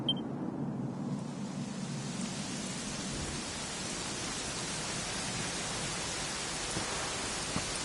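Steady rainfall in Dragon Quest XI hissing evenly throughout, a broad wash of noise with a soft low rumble underneath, no voices.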